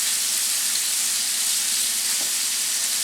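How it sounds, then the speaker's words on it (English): Sirloin steak sears in a hot pan over high heat, a loud, steady, bright sizzle with a dense frying hiss that holds evenly throughout, no voices. "I want to cook it on high heat because I want to get a real good sear"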